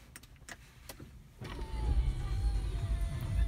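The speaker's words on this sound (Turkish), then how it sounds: "Aracımızı bir çalıştıralım." Audi A6 engine cranking and catching, then settling into a low rumbling idle heard close from inside the car, after a few quiet clicks.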